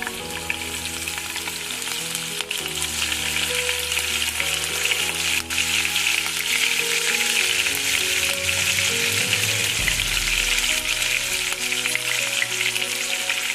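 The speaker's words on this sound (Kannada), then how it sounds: "ಫಸ್ಟಿಗೆ ನಾನು ಗ್ರೀನ್ ಚಿಲ್ಲಿ ಹಾಕ್ತಾ ಇದ್ದೀನಿ" Green chillies hitting hot oil in a pan for egg bhurji, producing a loud, dense sizzle that holds steadily for over thirteen seconds with faint crackles throughout and no voices.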